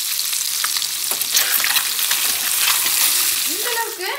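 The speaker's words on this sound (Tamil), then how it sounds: "மஞ்சத்தூளை ஆட் பண்ணி லோ ஃப்ளேம்ல வச்சு ஒரு 5 நிமிஷம் நல்லா வதக்கி எடுத்துக்கலாம்" Egg pepper masala sautéing in a pan on a low flame, with a continuous close sizzle and frying hiss and faint stirring scrapes throughout.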